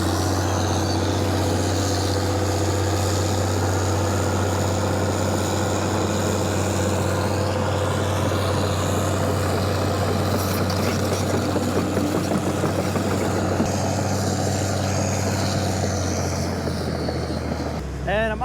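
A Komatsu heavy hauler at a landfill, its big diesel engine running loud and close with a deep steady drone and heavy mechanical rumble throughout, dropping off at the very end.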